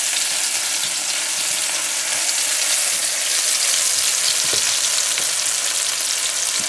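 Onions, scallions, pounded garlic and pepper frying in hot oil for fried pumpkin with saltfish, a loud, dense, continuous crackling sizzle heard up close with a few faint knocks and no voices.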